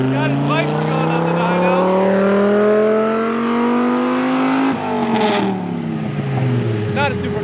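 A motorcycle engine revs hard on a dyno, its pitch climbing steadily in a loud sustained run before dropping off and rising again, with people talking nearby.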